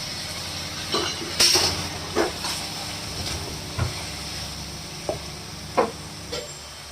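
Pancit canton noodles cooking with eggs in a pan, a soft steady sizzle under intermittent clinks and scrapes of a utensil against the pan, each knock brief and spaced a second or so apart.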